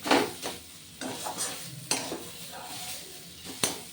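A spoon stirs a dry stuffing of boiled jackfruit seeds and spices in a pan, with sharp scraping clicks and light sizzle at irregular intervals, close and fairly quiet.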